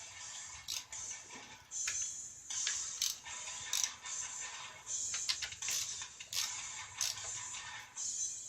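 A ratchet snugs down valve cover bolts on a 306k-mile Toyota Tacoma, giving short bursts of quiet clicking that repeat every second or so with brief pauses between strokes.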